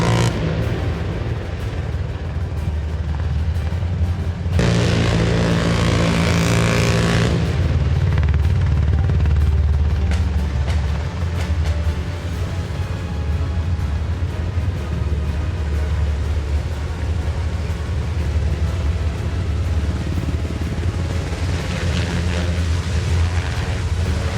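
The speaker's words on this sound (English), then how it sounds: "what you just witnessed there is an MH-60 Black Hawk helicopter from the 160th Special Operations Aviation Regiment" A US Army MH-60 Black Hawk helicopter of the 160th Special Operations Aviation Regiment passes over a harbor channel near a bridge during a special forces demonstration, a loud, steady rotor and engine roar that swells as it passes and then carries on.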